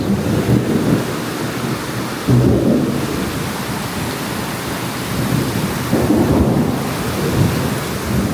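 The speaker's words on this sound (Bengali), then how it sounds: "যে পরিমাণ বজ্রপাত হইতেছে বাসার এই যে ব্যাক সাইড" A thunderstorm with heavy rain at the back of a house, a steady dense roar of rain with several deep thunder rumbles swelling and fading throughout, close and loud.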